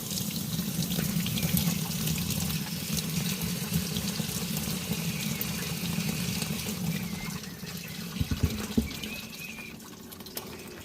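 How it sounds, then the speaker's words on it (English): Water from a tap pours steadily to rinse out a rock tumbler barrel, a continuous splashing stream that thins near the end and gives way to a few sharp knocks. "Now I'm going to give this a really nice rinse out to make sure there's no coarse grit left in the screen anywhere"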